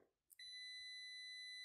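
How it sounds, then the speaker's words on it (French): A multimeter's continuity buzzer sounds as its probes touch a good fuse: after a faint scrape, a single sustained, piercing electronic tone starts abruptly and holds steadily to the end. "je touche, donc j'entends le buzzer"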